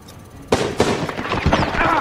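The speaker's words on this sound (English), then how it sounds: "I fired again." Gunfire in the Medal of Honor beta video game, a close, loud burst of several rapid shots crackling in quick succession after a quiet start.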